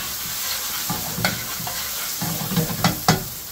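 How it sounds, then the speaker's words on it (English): Chunks of lamb and onions sizzle in a pan for a British Indian restaurant-style lamb saag, a steady frying hiss with a few stirring scrapes, close and fairly loud. "So as the lamb continues to brown, the onions are going to caramelise."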